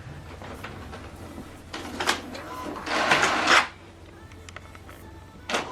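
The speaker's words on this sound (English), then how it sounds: "Now this document is printing." HP Deskjet 3700-series inkjet printer printing a document, with close mechanical whirring and clicking that swells into a louder feed pass, then settles back to a low hum.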